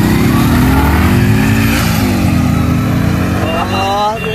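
Two motorcycles, a V3 and a Hero bike, race against each other outdoors. Their engines drone loudly and steadily up close, and the pitch rises and shifts as the bikes accelerate and pull away.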